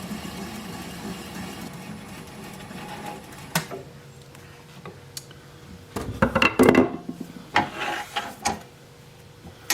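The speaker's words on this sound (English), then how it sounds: "And I'm going to apply the bevel of the gouge against the bottom of the bowl." A wood lathe turns a driftwood bowl while a gouge is pressed against its bottom, giving a steady hum under scraping and rubbing that grows rougher and louder toward the end, with scattered sharp knocks.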